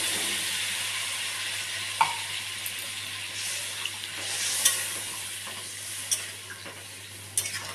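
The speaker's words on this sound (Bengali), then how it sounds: "এবার মশলাটাকে আমি ভালো করে কষিয়ে নেব" Spice paste sizzles steadily in a pan for a Bengali taro (kochu) curry, with a few faint scrapes and clicks of stirring over a constant low hum, no voices.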